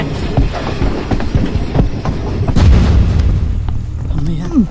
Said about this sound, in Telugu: ట్రైన్ మూవ్ అయిందా?